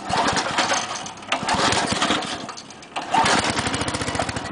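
The small engine of a 1991 Sears tiller cold-starts and runs with a steady, chugging rumble, loud and close, surging unevenly before settling into a rapid putter.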